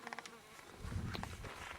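A bee buzzes close by outdoors on a cross-country trip, a faint wavering drone that swells and fades briefly with no talk over it.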